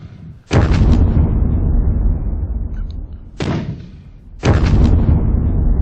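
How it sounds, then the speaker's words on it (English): Soviet artillery shells exploding in a World War II video game: three loud, close blasts, each a sharp boom followed by a long rumbling decay, with the last two coming about a second apart. "Machine gun there is drawing a Soviet indirect fire now."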